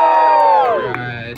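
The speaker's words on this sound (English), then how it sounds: "Give me a cheer." An audience at a live one-man-band show lets out one loud, sustained group cheer that slides downward in pitch and fades over about a second.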